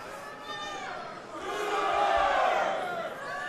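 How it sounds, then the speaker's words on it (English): Crowd at an MMA fight in Oklahoma breaks into loud rhythmic chanting that swells in the middle, many voices together over arena noise. "Got some chants in the crowd."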